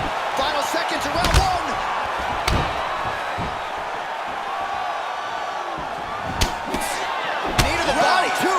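Heavy thudding body strikes land in a UFC 4 video game bout between Conor McGregor and Leon Edwards, several sharp impacts spread over a busy crowd-and-commentary background with talking throughout.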